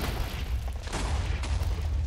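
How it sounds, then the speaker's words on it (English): Repeated explosions in the Minecraft mod RogueCraft during a boss fight, a dense rumbling series of muffled blasts heard steadily with no pause. "Big explosion time"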